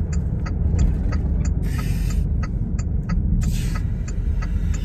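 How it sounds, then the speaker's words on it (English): A car drives along the road, giving a steady, loud engine and road rumble throughout, with repeated faint ticking clicks on top and two brief bursts of higher hiss. "while I'm driving back to a buddy's place here"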